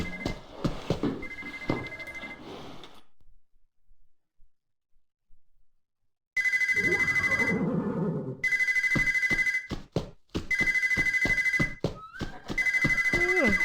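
Telephone ringing in a horse ranch video game, a loud electronic bell repeating in regular bursts, with a silent gap early on and a few sharp clicks between rings.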